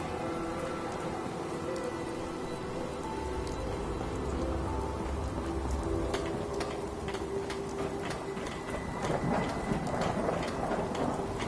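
Rain in the video game Fallout 4, a dense continuous patter on surfaces with low rolling thunder underneath and crisp drop ticks, holding steady throughout.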